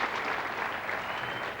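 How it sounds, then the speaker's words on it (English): Studio audience applause on a 1984 Australian Play Your Cards Right game show, a steady dense wash of clapping held at even loudness throughout. "We'd like you to keep your applause going"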